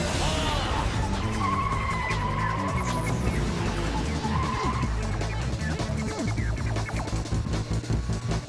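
Cartoon race car tires squealing and skidding through a sharp corner, a loud continuous screech layered over engine roar and busy action noise throughout.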